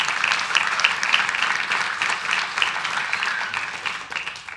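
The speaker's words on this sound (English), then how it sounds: "A big round of applause for them" Sustained applause from the audience at a city council meeting, a thick, even wash of many hands clapping at once that gradually tapers near the end.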